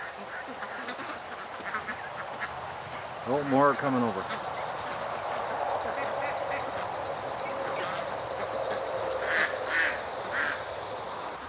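A duck gives a short burst of quacks on a hot day near the water, set against a constant chorus of insects; someone speaks briefly at the start and later a few faint calls follow.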